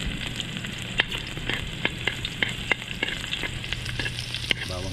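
Garlic sizzles steadily in hot cooking oil while being stirred, with sharp spoon clicks against the pan at irregular intervals and a gentle hiss underneath, heard close and alone.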